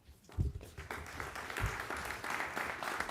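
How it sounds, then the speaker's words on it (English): A school board meeting audience claps, a dense burst of applause that holds steady for several seconds and stays fairly close. "when you clap, you're wasting somebody's time"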